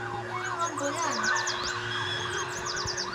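An ambulance siren wails in rising and falling sweeps as it passes on a road, loud and close over a steady vehicle hum, with no talk.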